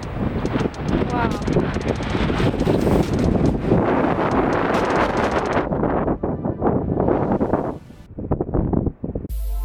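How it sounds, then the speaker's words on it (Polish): Strong wind on a mountain top buffets the microphone in heavy, continuous roaring gusts that ease briefly near the end, with a voice speaking faintly beneath it. "nie macie pojęcia, jaki ten wiatr jest silny"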